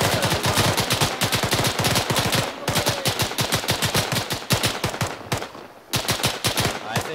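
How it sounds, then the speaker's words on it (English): Gunfire from the video game ArmA 3: loud, continuous rapid automatic bursts fire in a dense rhythm throughout, with only brief gaps and no voices. "a lot of shooting."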